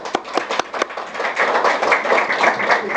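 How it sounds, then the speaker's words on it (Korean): Applause breaks out at a Korean online journalism awards ceremony, starting with a few separate claps and then swelling into steady, dense clapping from the audience that carries on to the end. "다시 한번 박수로 그 감사의 말씀 드리고 싶습니다"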